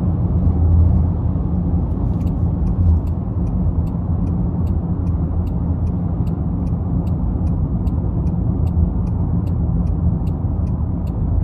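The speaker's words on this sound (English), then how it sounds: "Give it a little throttle here. Yeah, really good pull from that turbo six." A 2023 Land Rover Defender 90X with a turbocharged six-cylinder engine pulls under light throttle, a steady low cabin drone and road rumble with a regular faint ticking, like a turn signal, running over it.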